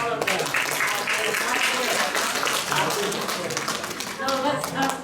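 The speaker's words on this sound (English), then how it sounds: "So let us give another applause for all of them." Audience applause at an academic publishing forum, a steady patter of many hands clapping that fills the room for several seconds, fairly close and even.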